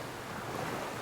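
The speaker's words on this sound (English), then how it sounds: "waves slowly rolling into the shore" Ocean waves rolling onto a beach shore make a soft, steady wash of surf, faint and continuous throughout with no distinct breaks.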